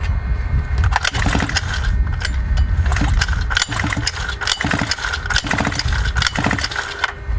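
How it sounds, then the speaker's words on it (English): Small gas engine of a 1/5 scale RC Baja buggy being clicked over by pull-start to check spark, giving a dense run of sharp mechanical clicks and rattles, close and loud throughout with no running engine. "I'm just going to click that over and see if there's any spark on the spark plug"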